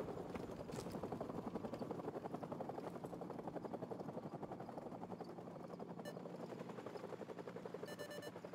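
Helicopter in Call of Duty 4 Remastered, a continuous rotor thump with fast regular chopping pulses, loud and sustained, with brief sharp game sounds near the end.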